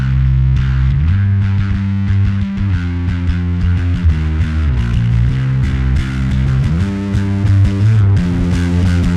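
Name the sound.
bass through Darkglass KAAMOS pedal, broad fuzz drive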